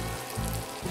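Fried mourala fish dropped into a hot pan with raw tomato over medium heat, giving a dense, continuous sizzle and crackle up close, loud and unbroken with no voices.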